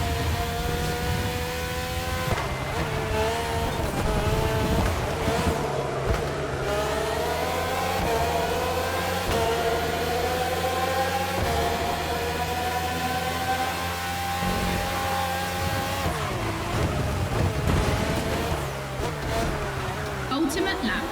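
Red Bull race cars in The Crew Motorfest speed along in a continuous high-pitched whine of revving engines, with pitch sweeps as they shift and pass, lasting throughout.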